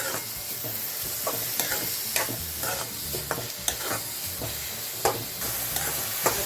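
Onion sautéing in a pan for a dry fish curry, giving a steady close sizzle broken by repeated scraping stirs of a spoon, with no one talking.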